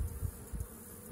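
Honey bees buzzing at an open hive, a steady low hum with slight pulsing swells, close and continuous, no voices.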